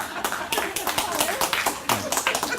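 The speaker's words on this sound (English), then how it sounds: "Don't clap. Don't pretend now" Audience clapping at an annual general meeting, a patchy, brief round of claps from a modest crowd, fairly close, with some voices mixed in.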